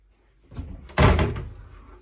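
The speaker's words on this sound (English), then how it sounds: "Another door." A door inside a house in Finland swings and shuts, with a soft first knock followed by a louder thudding close, heard alone and fairly near.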